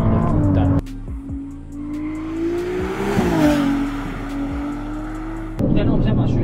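A Ferrari 296 Assetto Fiorano, the mid-engined track-package car, runs on a race track with a steady engine drone that rises and falls through braking and acceleration, with a brief tire squeal and cabin noise throughout.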